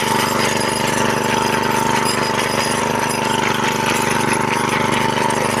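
A petrol grass trimmer runs at full throttle while cutting grass, its line head clogged with wound grass so it barely spins: a loud, close, unbroken engine drone with a steady buzzing whine and no talk.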